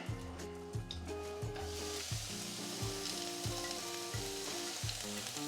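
Onion frying in a little oil gives a soft, continuous sizzle heard up close, with light stirring noise and a steady repeating tonal hum running underneath, no voices.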